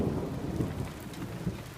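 A California thunderstorm with steady rain pattering on surfaces and deep rumbling thunder rolling underneath, heavy and close with a few louder low swells, and no voices.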